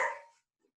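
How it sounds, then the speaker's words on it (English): A single sharp dog bark, loud and close, cutting off quickly with a faint short yip after it, heard alone in an otherwise quiet room during a home fitness class. "Sorry for my dog barking."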